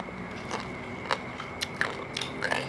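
Crisp bites into crunchy dried pork in a spicy Thai rice noodle salad, several sharp crunches spaced through the moment, close and fairly quiet with no talking.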